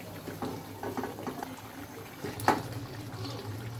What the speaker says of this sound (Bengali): এবার কিছুক্ষণ সময় ফুটাতে হবে